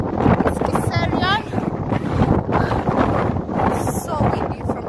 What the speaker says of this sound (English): So windy from here. Super, super windy.